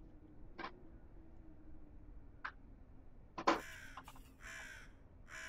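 Bird cawing in a puzzle video game, a few short sharp caws spaced apart, then a loud cluster of harsh caws near the end over a quiet steady background.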